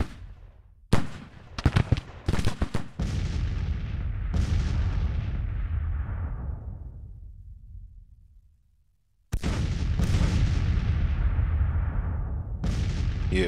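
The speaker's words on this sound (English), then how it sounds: "I suppose I could try and do a little bit of damage with the cannons" Cannon artillery in the Grand Tactician Civil War video game: a sharp opening blast, a quick cluster of booming shots, then a long rumbling roll that fades to near silence before another heavy volley erupts, with no talking.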